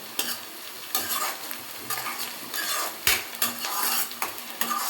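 Onions sauté in a pan for a vegetable biryani gravy while a spoon scrapes and stirs them in repeated strokes, the steady sizzle loud and close throughout.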